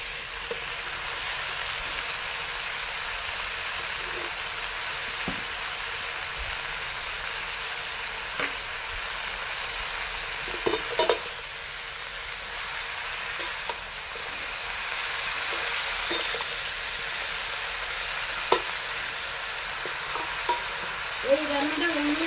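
Malabar spinach being stirred into a pan of frying pumpkin and fish head, with a steady low sizzle throughout and occasional scraping clinks of the spatula; no one speaks.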